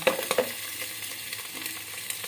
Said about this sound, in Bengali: ভেজে দিলাম হালকা করে নাহলে বলাই যায় না ফাটতে পারে